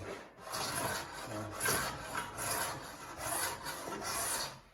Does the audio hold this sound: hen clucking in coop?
no